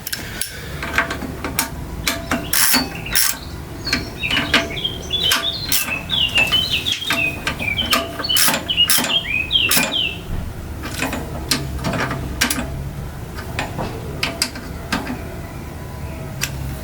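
Screws being tightened on an old Yanmar engine make a string of sharp, irregular metallic clicks and taps close by, with birds chirping steadily in the background.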